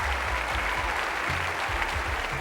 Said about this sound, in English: Give them both a great big round of applause